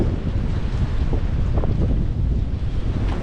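Steady wind buffeting the microphone outdoors by red brick railway pillars, a loud low rumble throughout with no speech.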